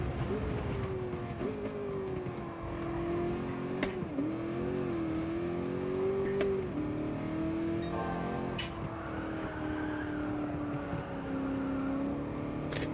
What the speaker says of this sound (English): A little bit of a backfire from the engine then, that's what it sounded like.